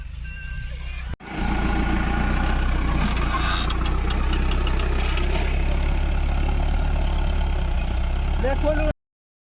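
A tractor engine stuck in a muddy field during sowing runs loud and steady at close range with a low rumble, after a brief cutout near the start, while voices talk over it.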